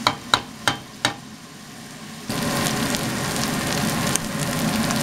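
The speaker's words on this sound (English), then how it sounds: "Once you have the meat crumbled up in there, you can turn your heat back on and start browning it." Crumbled rabbit meat browns in a pan for a braided chili loaf, a steady close sizzle that swells louder partway through, preceded by a few sharp clacks of a utensil against the pan.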